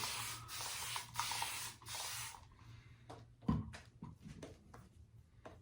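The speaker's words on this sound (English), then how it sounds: "I really like using that spray bottle over dipping the tips in water." Several quick hissing sprays from a water spray bottle while preparing shaving lather, then quieter handling sounds and a light clatter nearby.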